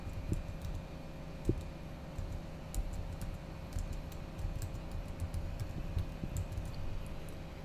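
Someone types a username and password on a computer keyboard, a run of quick, light key clicks with brief pauses, close and alone with no speech.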